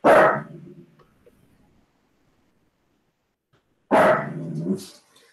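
A dog barks twice close by, one sharp bark at the start and another about four seconds later, with quiet between and no talk over it.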